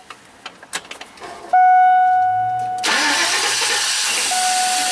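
GMC 4.8 school bus engine cranking after a few clicks, catching into a loud idle that sags and stumbles, then a whining hiss as it fails to hold, close and alone.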